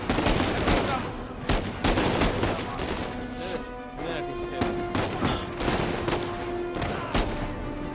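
Dense gunfire from the action video game Uncharted 4 crackles in loud, rapid bursts over a steady bed of game music and effects.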